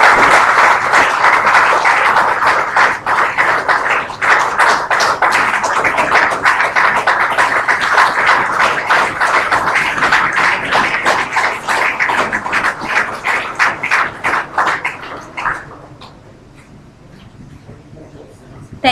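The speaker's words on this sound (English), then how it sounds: "Ladies and gentlemen, another round of applause for our speaker this evening." An audience at an evening memorial lecture applauds the speaker with loud, sustained clapping that gradually thins out and stops after about fifteen seconds, leaving quiet room tone.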